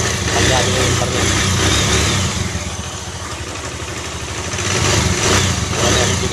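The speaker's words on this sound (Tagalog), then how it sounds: "Ayan, parang palyado yung kanyang andar." Suzuki GD110 motorcycle engine revved with a misfire, running loud and rough with uneven, sputtering pulses that dip midway and then swell again, close to the microphone.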